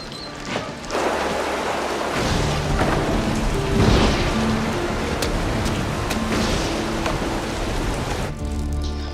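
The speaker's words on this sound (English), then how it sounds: "It's raining outside." Heavy rain pours steadily through a Wild West storm, with rumbling thunder rolling in near the middle and crackling bursts scattered throughout, loud and close with no voices.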